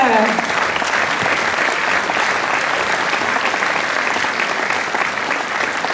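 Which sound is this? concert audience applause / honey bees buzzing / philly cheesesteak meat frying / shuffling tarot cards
concert audience applause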